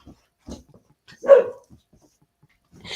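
Dogs standing at a window in another room barking: one clear, moderately distant bark stands out, with a few fainter yips and whimpers around it in an otherwise quiet room.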